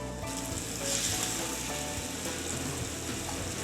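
Flour-coated beef pieces for stroganoff fry in a skillet with a loud, dense, continuous sizzle and crackle, heard close up with no talking.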